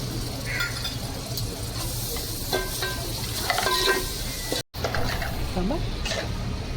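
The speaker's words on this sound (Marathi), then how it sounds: "चांगले परतून घ्यायचे ना मसाले. आणि थोडंसं दही घेतलंय ते पण टाकून घ्यायचं." Spice masala sautéing and being stirred in a pan for keema, with yogurt added; a steady close sizzle with scraping stirs throughout and a brief break near the end, speech faintly underneath.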